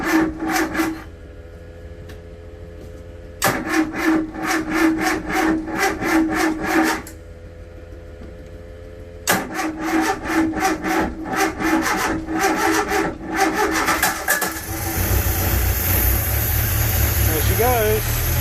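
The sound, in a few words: Seamaster 27 boat engine starting after sitting all winter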